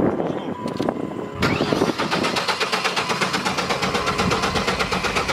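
A friend's pickup truck, damaged after jumping a motocross ramp, has its starter motor crank the engine with a rapid, even chugging rhythm that begins abruptly and continues loud and close without catching.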